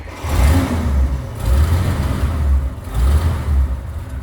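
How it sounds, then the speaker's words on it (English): A 1931 Cadillac 355 Town Sedan engine is turned over by its foot pedal starter, giving three slow, labouring cranking surges about a second and a half apart. The sound is loud and close, with no talking. "Let's go ahead and give it a crank."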